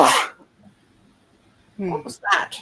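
A single short, sharp sneeze bursts out at the start, followed by silence and then someone speaking briefly.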